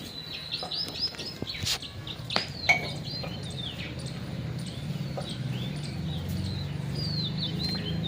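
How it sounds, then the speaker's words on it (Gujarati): Sparrows chirp at their nest, a flurry of bright, close tweets in the first few seconds, then sparser calls over a steady low background hum. "અહીંયા ચકલી બેઠી છે અને અહીંયા આવી ગઈ છે માળે."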